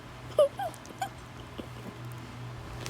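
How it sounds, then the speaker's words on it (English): Benji, a pet dog, whimpers and yips indoors, a couple of close high-pitched whines early on followed by fainter short whimpers tapering off. "I'm in here with my doggy right now."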